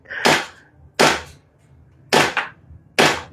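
Four sharp Desert Eagle pistol shots fired outdoors in Candelaria, each a loud crack with a short decay, spaced roughly a second apart, the third followed by a quick echo.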